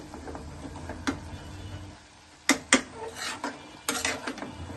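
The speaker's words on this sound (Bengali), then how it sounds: "পুঁই শাকটা নাড়াচাড়া করব।" A spatula stirs Malabar spinach (pui shak) frying in a pan, giving sharp metallic scrapes and clinks at irregular intervals over a faint sizzle, close and moderately loud, with a brief quiet gap midway.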